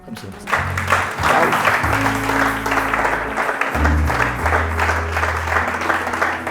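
Church congregation applauding together, a dense, steady wash of clapping that fills the room for several seconds, with low organ or keyboard tones sustained underneath.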